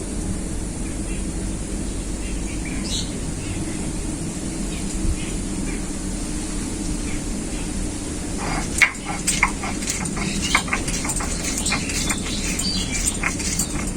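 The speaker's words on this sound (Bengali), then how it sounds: "এখানে আমি নিয়েছি জিরে, ধনে আর গোলমরিচ, একসাথেই বেটে নেব।" Cumin, coriander and black pepper are ground together by hand, starting after a quiet stretch as a run of rhythmic gritty scraping strokes.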